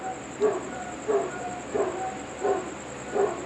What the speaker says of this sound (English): these dogs are sitting here barking all night long